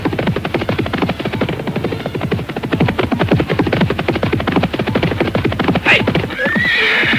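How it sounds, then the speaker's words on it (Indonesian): A horse-drawn cart rolls along as an audio drama effect, with a rapid, steady clip-clop of hooves close up and a loud whinny near the end. "Aki Luwuk yang masih terus mengendarai gerobak kudanya memasuki desa Hambal"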